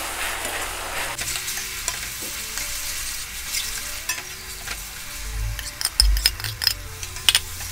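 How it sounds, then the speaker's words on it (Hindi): Tomatoes with ginger garlic paste sizzle and fry in oil in a pan for South Indian chicken Chettinad, a steady close hiss with occasional stirring scrapes and clinks of a spoon. "और अभी जब तक ये टमेटो पूरी तरह से कुक नहीं हो जाता, अच्छे से वो ऑयल नहीं छोड़ने लगता, तब तक हमें इसे पकाना है।"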